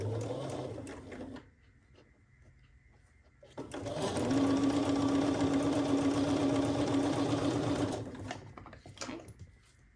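A sewing machine stitches a quilt block in one long steady run of about four seconds, loud and even, with quieter handling sounds and brief movement before and after.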